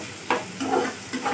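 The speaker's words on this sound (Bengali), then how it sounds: "এবার মশলার সাথে করলাটা খুব ভালো করে আমি নাড়িয়ে নেব।" Bitter gourd being stirred with spices and garam masala in a pan, giving a few short scraping strokes over a soft, steady sizzle, close and fairly quiet.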